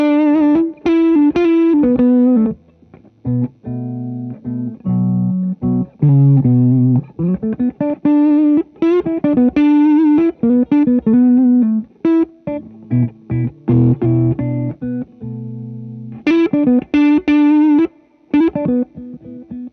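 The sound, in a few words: guitar through Dr Z Maz and Two Rock amps on Magma57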